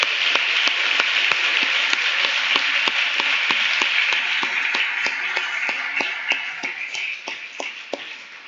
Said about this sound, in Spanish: vamos a darle un fuerte y nutrido aplauso al Señor